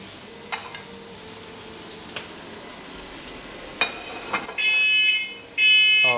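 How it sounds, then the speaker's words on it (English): Smoke alarm set off by smoke from searing steak, two loud sustained electronic beeps near the end, following quiet sizzling and a few clinks of cookware. "The smoke alarm got really mad at me."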